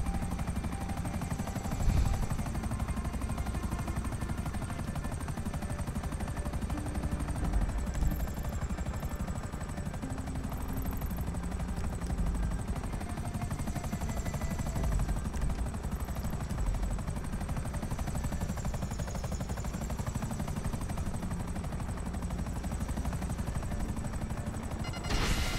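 Steady loud rotor drone of a helicopter in GTA 5 with a constant high whine, continuous throughout, without speech.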